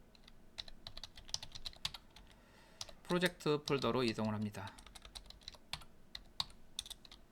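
Fingers type on a computer keyboard while entering commands in a terminal, producing a rapid stream of light clicking keystrokes throughout, with a person speaking briefly in the middle.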